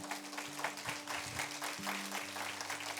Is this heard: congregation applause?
yes